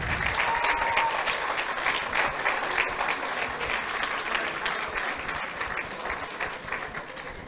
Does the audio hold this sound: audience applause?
yes